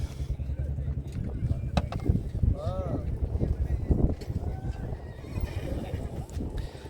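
A pure Sindhi breed horse, recently brought from Rajasthan, lets out a short whinny amid a busy outdoor din of rumbling noise, hoof and movement sounds, and nearby voices.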